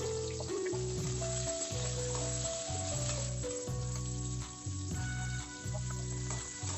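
Small shallots fry toward golden in oil for a Tamil-style fish curry. A soft, steady sizzle runs under a low, rhythmic pulsing background, and no one speaks.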